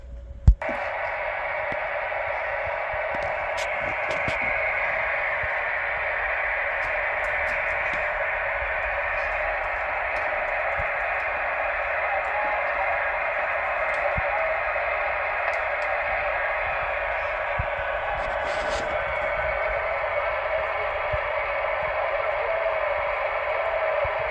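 A click, then a vintage GE valve radio plays steadily: a thin, hissy, band-limited broadcast sound with faint crackles, continuing evenly throughout.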